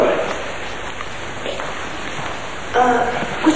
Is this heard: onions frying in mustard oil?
no